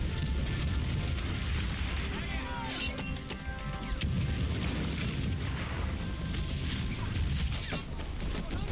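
Bombing runs in the strategy video game Hearts of Iron 3 produce a dense, continuous rumble of explosions and booms, loud and unbroken throughout.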